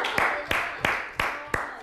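A studio audience on a Korean idol variety show claps in four sharp, evenly spaced bursts. Each loud, close group clap decays quickly, and a voice carries between the claps.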